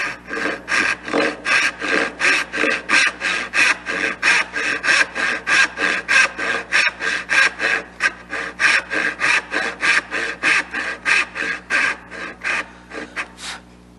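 Hand saw cutting dovetail tails into a wooden tail board, steady rhythmic rasping strokes back and forth, about two per second, close and loud with no talk.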